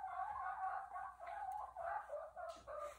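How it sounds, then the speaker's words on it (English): Bantam silkie chickens in an art studio, clucking softly and continuously in short repeated bursts, nearby but quiet. "They're chickens, they're bantam chickens, bantam silkies."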